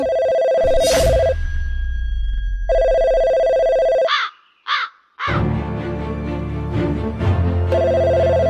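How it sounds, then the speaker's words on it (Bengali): A mobile phone lying on a road rings loudly in repeated electronic bursts, with a few harsh crow-like chirps in the middle of the ringing. "রাস্তার ভিতরে কার জানি ফোনটা পইরা বাজতাছে"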